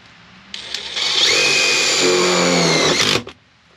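Power drill driving 10/16 by 1/2 inch self-tapping screws into a 2000-2006 GMC Yukon floor, a steady whirring run of about two and a half seconds that starts abruptly and winds down close up.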